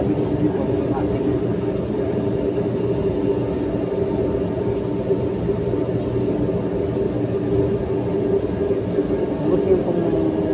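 Steady low rumble and rolling hum of an MRT train riding from Shaw Boulevard toward Quezon City, constant throughout with a voice talking over it.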